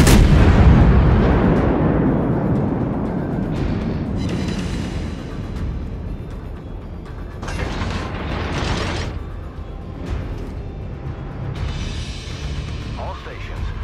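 Heavy naval gunfire from the Moskva battleship in World of Warships, with a loud booming salvo at the start fading into a rumbling roar, followed by several further bursts of firing and mechanical clanks across the sequence.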